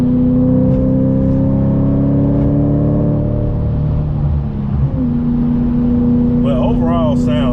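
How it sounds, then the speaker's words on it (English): A supercharged Audi B8.5 RS5 with a JHM exhaust downshifts and revs from inside the car, a steady loud engine drone with a brief dip and rise in pitch, and a voice speaks briefly near the end. "Get a little downshift going."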